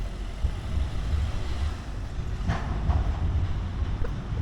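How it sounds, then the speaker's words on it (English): A tram passes on a street in Timisoara, a heavy low rumble with a rolling roar and faint rail squeal, steady and fairly close, with no talk. "Comes the trams."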